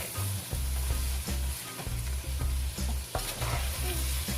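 Peppers, onions and garlic sizzling in a pot while being stirred, with steady frying hiss and repeated scraping knocks of the utensil against the pot, up close.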